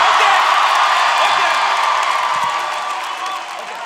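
A festival audience at a live artists' event cheers and applauds together, a loud, dense wash of whoops and clapping close at hand that slowly fades over a few seconds.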